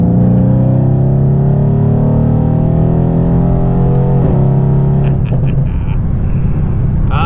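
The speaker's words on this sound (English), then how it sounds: "it's time to once again jump in the AMG and go for a little ride. Do a little pull here." Mercedes-AMG car accelerating hard from inside the cabin, a loud, steady engine roar rising in pitch through the pull with a brief shift near the middle and rougher rumble toward the end.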